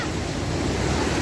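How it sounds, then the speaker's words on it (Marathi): Floodwater of the swollen Indrayani river at Alandi rushes past a packed bridge, a loud, steady broadband roar without a break. "बघा किती पाणी येते"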